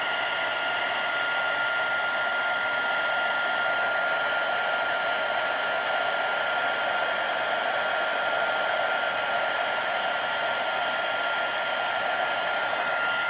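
A heat tool blows hot air over embossing powder on a stamped card, a loud, constant whooshing hiss with a steady high whine running unbroken throughout.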